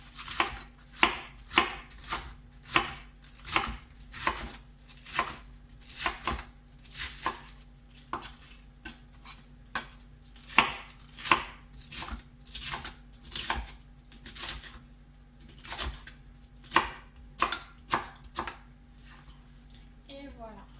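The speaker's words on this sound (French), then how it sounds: "je vais découper tout ça un peu grossièrement" A knife coarsely chops cabbage on a board in a regular rhythm of about thirty crisp, close thuds spread over twenty seconds, with a faint steady hum underneath the cuts.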